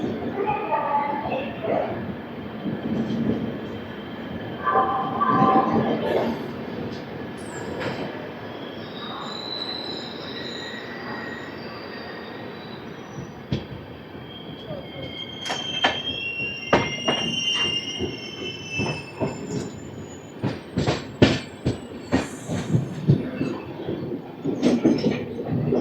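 Train 16594 pulls into Gooty station with rumbling wagons and repeated shrill, high wheel squeals that grow sharper and more frequent as it slows, with voices in the background.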